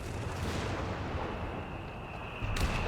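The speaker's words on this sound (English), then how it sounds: "This ammunition storage interacts with this howitzer team, so it gives it a faster barrage cooldown." A howitzer barrage in the video game Company of Heroes 3 booms as a steady, dense rumble of artillery fire, with a sharper blast near the end.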